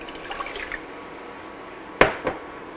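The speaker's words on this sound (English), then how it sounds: "in it I'll add 2 cups of water" Water goes into a medium-sized saucepan: faint trickling early, then two short, sharp splashes close by near the end.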